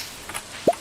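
A single soft watery plop as a frog jumps into a pond in Stardew Valley, short and close, preceded by a faint quiet ambience.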